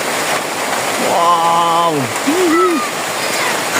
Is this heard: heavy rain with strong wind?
yes